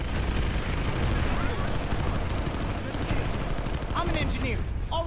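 Gunfire in a large battle in the video game PlanetSide 2, with dense continuous shooting and rumbling blasts filling the mix and rapid bursts layered over one another, loud and unbroken.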